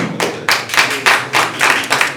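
A small workshop audience claps in about five loose, rhythmic bursts, close and fairly loud, each swelling and fading, with no talk over it.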